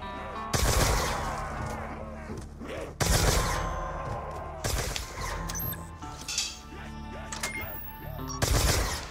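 Ray Gun Mark 2 fire against a crowd of zombies in Black Ops 2 Zombies on the Buried map: loud, close energy blasts in several bursts with clattering game effects between them and no talk.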